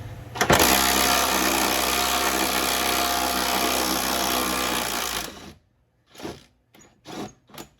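An impact wrench works a suspension bolt on a Jeep Cherokee during a lift-spring install: one long, loud, steady rattling whir for about five seconds, then several short bursts with pauses between them.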